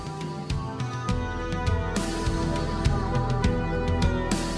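The guitar intro of a song plays as a dense recorded rock track, with steady driving guitar and sharp accented hits throughout, moderately loud.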